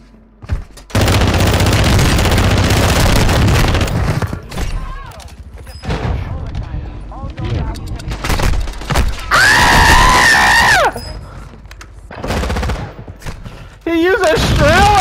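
Automatic shotgun blasts and Strela launcher fire from Call of Duty: Modern Warfare II in Lockdown mode, loud and close, with dense volleys of shots, short pauses and bursts of shrill game effects over about fifteen seconds.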